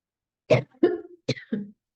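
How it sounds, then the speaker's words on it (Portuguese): Someone coughs four times in two quick pairs, short harsh bursts close to the microphone with silence around them. "Intervalo para minha tosse."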